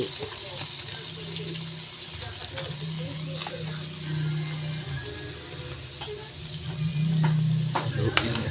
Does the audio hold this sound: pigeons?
no